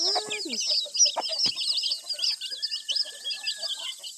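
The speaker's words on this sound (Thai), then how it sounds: "ไก่แม่ไก่แม่" Several chickens, a mother hen with chicks, cluck and chatter in quick, busy bursts, fairly close, with a longer drawn-out call in the middle and no speech.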